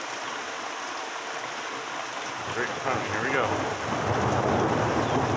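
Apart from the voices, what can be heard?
rain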